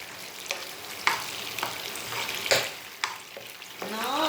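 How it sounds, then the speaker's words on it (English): Tempering liquid for dhokla boils and sizzles in a pan. A soft, steady bubbling hiss is broken by a few scattered spoon clinks and stirring scrapes, with no talk. "Bring it to the boil."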